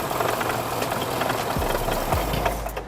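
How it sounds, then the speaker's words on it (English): A car engine with a misfire on cylinders 1 and 2 runs steadily close by, a rough low idle with irregular knocking pulses and a couple of deeper thumps near the end, no talking. "we are still having a misfire on the cylinder 1 and 2"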